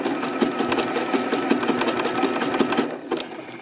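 A sewing machine runs a three-step zigzag stitch while attaching picot trim to lingerie, a fast even mechanical chatter of needle strokes close by, slowing and stopping near the end.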